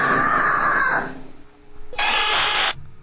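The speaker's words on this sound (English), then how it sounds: "Then a loud scream pierces the air, sending the little girl running for mommy." A loud scream rings out in a toddler's bedroom, two long, piercing, sustained cries separated by a brief pause, close and harsh with no talk.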